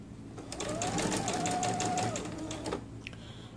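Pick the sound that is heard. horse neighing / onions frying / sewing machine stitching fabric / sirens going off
sewing machine stitching fabric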